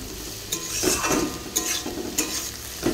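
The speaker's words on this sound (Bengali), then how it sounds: "উচ্ছে আলু ভাজা বসিয়ে দিয়েছি, হয়ে এসছে প্রায়।" Bitter gourd and potato slices frying over low gas in a pan, a soft continuous sizzle broken by several scraping stirs of a spatula against the metal, close and alone without talk.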